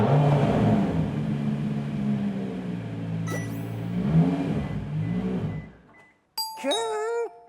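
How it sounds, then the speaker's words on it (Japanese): An Aston Martin One-77 engine rumbles loudly and steadily, falls briefly silent, then a bright, rising electronic whine with ringing tones follows as the starter cranks the car, all close and with no talking. "このセルが回る音が多分僕の知ってる限り全部の車の中で一番かっこいいです。"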